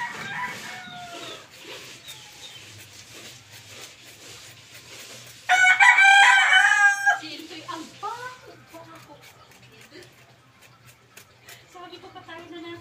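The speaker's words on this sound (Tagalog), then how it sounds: "Uy, manok." A rooster crows loudly and close by in a rural yard with vegetables, jackfruit and bamboo, a single long call rising above ongoing talk and other outdoor sounds.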